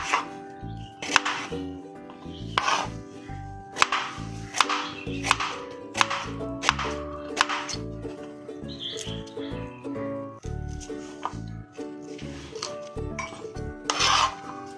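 A knife cuts a carrot lengthwise into long strips on a board, making a series of sharp, close cutting strokes and scraping taps in an irregular rhythm; no talking.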